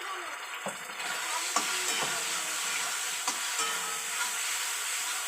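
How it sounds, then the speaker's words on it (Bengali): Spice paste with chili powder and turmeric sautéing in hot oil for a vegetarian jackfruit curry, a steady loud sizzle with scattered scraping stir clicks, close up, no talk over it. "এবার মশলাটা ভালো করে কষা"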